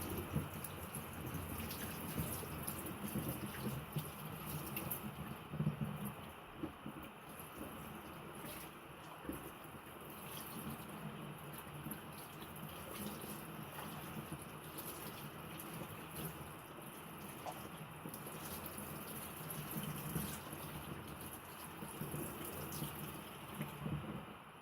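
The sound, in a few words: rinsing felt slippers under hot tap water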